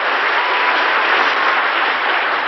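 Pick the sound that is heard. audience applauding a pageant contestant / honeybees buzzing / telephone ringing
audience applauding a pageant contestant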